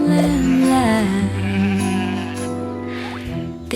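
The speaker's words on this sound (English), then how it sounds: "This is sheep, sheep, sheep." Sheep in a farm animal sounds song for toddlers, a few loud wavering bleats close up over a steady musical backing.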